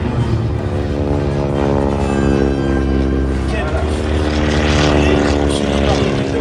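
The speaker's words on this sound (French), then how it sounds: "un avion donc construit en 42 par l'ingénieur Firth" A loud, steady propeller airplane engine of a 1942-built aircraft drones continuously up close at an air show, with a strong harmonic hum and no pauses.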